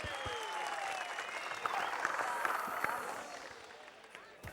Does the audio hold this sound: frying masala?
no